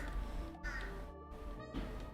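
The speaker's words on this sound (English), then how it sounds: "Fucking crows keep making noise." Crows caw several times in separate calls, moderately loud in an outdoor setting, with no voices over them.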